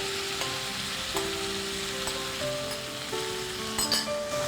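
Turmeric powder, cauliflower florets and green peas hit hot oil in a pan with crackled seeds, giving a steady close sizzle with faint clinks of stirring beneath a layer of soft sustained tones.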